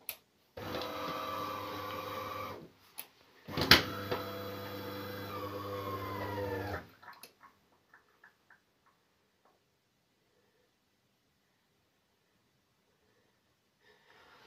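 A Delonghi ESAM04 110 S coffee machine starts up: a loud, steady mechanical whir and hum runs for several seconds, breaks off, and returns with a sharp knock. It then settles into faint ticks and near silence while it heats.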